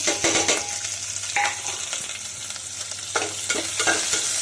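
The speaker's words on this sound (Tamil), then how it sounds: "வெங்காயம் நல்லா வதங்கி வரணும்" Onion, garlic and curry leaves fry in hot oil in a pan, a close, bright sizzle with repeated scraping strokes of a spoon stirring them through.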